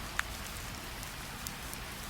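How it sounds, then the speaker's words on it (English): Steady rain falling outside over a city, an even soft patter with a few louder drops, continuous and without voices. "Outside, the rain had turned steady, a silver curtain over the city."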